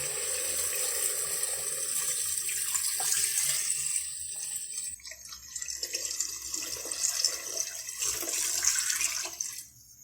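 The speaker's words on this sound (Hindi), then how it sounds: "अब हम इसमें पानी ऐड करेंगे। 2 लीटर हम इसमें पानी ऐड" Two litres of warm water poured in a steady stream into a pot of beef paya, gurgling and splashing, changing tone as it fills, tapering off at the end.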